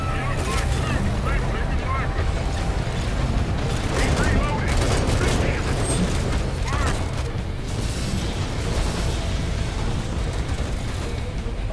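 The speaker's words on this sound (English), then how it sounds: "they're shooting at them" Continuous video-game gunfire rattling through dense, loud combat noise, with a steady roar of battle under it and no clear pause.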